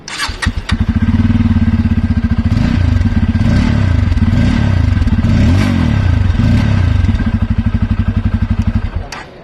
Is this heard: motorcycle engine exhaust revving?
yes